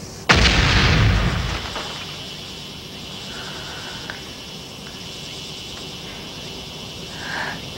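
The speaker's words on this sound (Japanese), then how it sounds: "爆破。" A single loud, close explosion blast, set off for a scene in a 1992 Japanese film, booms out sharply and rumbles away over about a second and a half, leaving quiet outdoor ambience with insects chirping.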